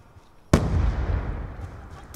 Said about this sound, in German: Haftgranate!